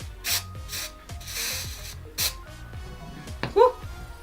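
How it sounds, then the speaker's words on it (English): Make-up product is sprayed close up onto a synthetic stippling brush: several short hissing spritzes, one longer burst in the middle, and faint handling noises between them. "spray it onto the brush and just work that in."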